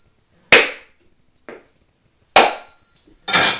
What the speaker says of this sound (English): to open the coconut, I'm taking the back of a cleaver here and simply tapping